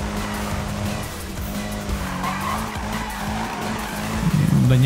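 Car tires skid and squeal in a continuous drift in Need for Speed (2016), with steady engine drone throughout and a louder screech swelling near the end.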